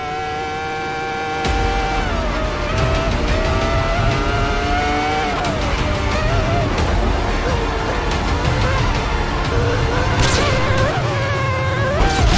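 Race car lapping a track in the Assetto Corsa racing game, a steady loud engine drone with rising and falling pitch through gear changes, plus a brief tire squeal near the end, no voices.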